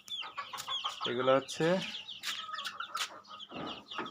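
Chickens and chicks cluck and peep in a rooftop pen, with a couple of louder squawks mid-way, while someone speaks over them.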